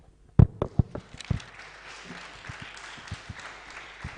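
A conference audience applauds after a speaker, starting with several sharp, loud claps that quickly thin into softer, scattered clapping fading over a few seconds.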